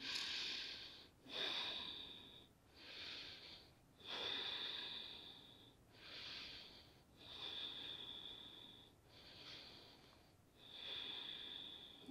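Slow, deep yoga breathing during a pose, with soft airy inhales and exhales alternating in an even rhythm of about six cycles, quiet and close.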